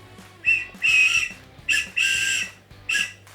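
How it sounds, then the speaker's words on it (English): A small whistle is blown in several short, shrill toots with uneven gaps, fairly close and loud, with no talking. "Oh, a whistle."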